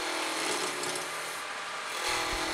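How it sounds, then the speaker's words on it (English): A spindle roughing gouge cuts wood on a lathe spinning at roughly 2,500 to 3,000 RPM, giving a steady, loud, close rasping hiss with a brief rougher patch near the end and no talking. "This is what the spindle roughing gouge was made to do."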